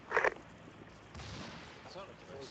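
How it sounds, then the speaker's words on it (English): A single sharp explosion in the military shooter Arma during a convoy defense, a loud close burst at the start followed by a lower rumbling tail and faint battlefield noise. "Okay, explosion, what was that?"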